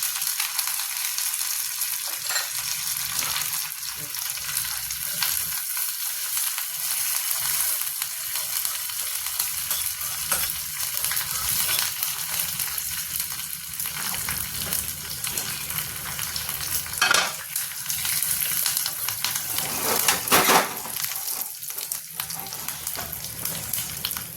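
Constant crackling sizzle of hot oil as mustard seeds, curry leaves, cumin and red chilli temper, close up and steady, with a few sharper pops and spatters along the way.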